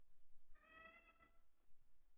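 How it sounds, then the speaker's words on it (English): A cat gives one faint, distant meow in the background, a short, drawn-out, tonal call in an otherwise quiet room, with no talking. "Sorry for the cat meowing in the background."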